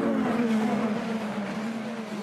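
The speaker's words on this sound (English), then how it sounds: "Riding on board with Kyle Kirkwood, I could hear some lift and coast, saving a bit of fuel" An IndyCar race car engine on board at Laguna Seca during lift and coast, a loud close drone whose pitch sags and wavers as the throttle eases off.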